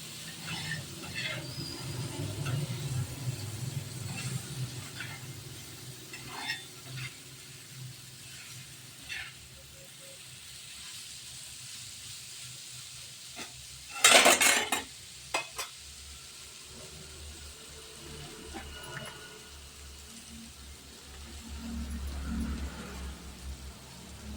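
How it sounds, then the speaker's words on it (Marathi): Soaked kurdai wafers stirred and sautéed in a pan for a tiffin dish, a low sizzle under scraping and stirring with a few sharp clatters near the middle; no words are spoken. "व ते चांगले परतून घेतले"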